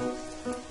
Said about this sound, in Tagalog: Ito ang tunog ng mga patak ng ulan habang naglalaro at dumadaustos sa bubong ng kanilang